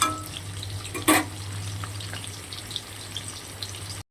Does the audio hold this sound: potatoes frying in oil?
yes